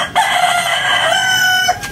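Young roosters (stags) on a backyard farm crowing, a close, loud, sustained cock-a-doodle-doo call of about two seconds with a shaky, rising pitch, alone without talk.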